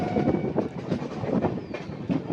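The Kanchankanya Express rolls into Kishanganj station with a steady rumble and rhythmic clickety-clack of wheels over rail joints, loud and close from inside the train.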